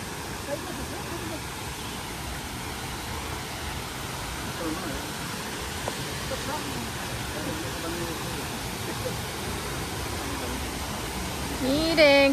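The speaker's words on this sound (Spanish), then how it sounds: "Ahí está la cascada, miren." Las Brisas waterfall in Cuetzalan gives off a steady, even rush of falling water from a short distance. A voice briefly comes in at the very end.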